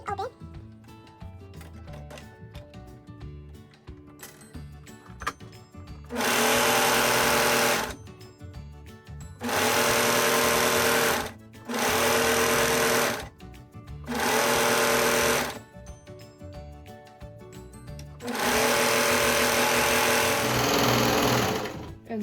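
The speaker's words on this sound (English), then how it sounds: "I'm going to take it and serge the curve" A serger overlocker stitches a curved seam in fabric for a baby romper, running in four loud, steady whirring bursts separated by short pauses, with quieter background sounds between the runs.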